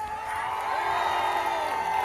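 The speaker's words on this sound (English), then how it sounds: "Give them a huge round of applause." An audience applauds a group performance at an education event, with crowd noise, cheering and whoops that stay steady and loud for the whole stretch.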